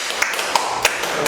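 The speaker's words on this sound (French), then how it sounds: "On applaudit." A few scattered hand claps ring out in a room, sparse and irregular, like a small group applauding after an introduction, with light murmuring underneath.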